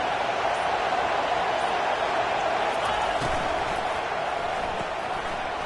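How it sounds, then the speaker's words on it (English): A stadium crowd roars for the defense on third down in a college football video game, a broad, sustained wash of distant cheering that stays loud and fades only slightly. "Decibels rising as the crowd gets behind this defense on third down."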